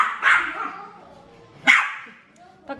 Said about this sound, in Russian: Так звонко гавкаешь.